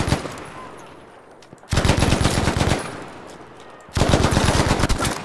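Automatic gunfire in the WWII video game Battlefield comes in two loud, sustained bursts of rapid shots, each about a second long and separated by a quieter lull with fading echoes.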